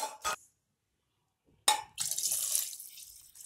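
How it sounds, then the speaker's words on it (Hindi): Water from glasses poured into cooking dal for khichdi, a short splash and then a longer steady pour close by, with a quiet pause between, no talking. "तो हम दो ग्लास इसमें पानी ऐड करेंगे।"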